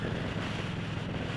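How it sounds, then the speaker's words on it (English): Strong wind buffeting the microphone, a constant low roaring rumble with no pauses. "it's windy as can be today."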